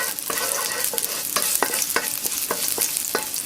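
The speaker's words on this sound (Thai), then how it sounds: "ใส่กระเทียมค่ะนะคะเจียวพอหอมค่ะ" Garlic fries in oil in a pan for a stir-fry, a bright steady sizzle punctuated by regular scraping stirs of a utensil, close and alone without speech.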